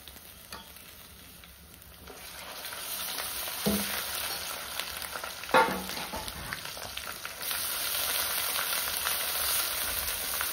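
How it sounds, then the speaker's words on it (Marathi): Ground masala paste frying and being stirred in oil in a pan over a wood-fired stove for Pune-style misal, with a steady sizzle and occasional scraping stirs, close and moderately loud, no talk. "वाटण आपल्याला तेलामध्ये मस्त असं परतून घ्यायचंय."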